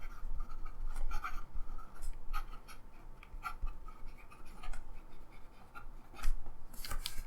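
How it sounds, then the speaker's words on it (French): A Swan Pens Kitazawa Fude fountain pen writing quickly on paper, close and quiet, with a continuous scratchy drag broken by short strokes and lifts, without any talk. "ça écrit vraiment assez rapidement sans skipper une seule ligne."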